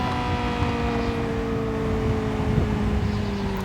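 A Ferrari F8 Tributo racing car idling in the Real Racing 3 video game, a steady moderate engine drone with sustained tonal whine and soft low rumble, no voices.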